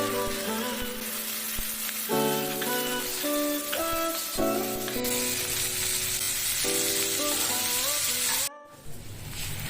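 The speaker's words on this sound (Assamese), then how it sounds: "ইফালে মোৰ ফুলকবি ভাজিখিনি হৈ গৈছে প্ৰায়।" Cauliflower fries in a pan with a continuous soft sizzle running beneath loud, melodic background music that dominates throughout, cutting out briefly near the end.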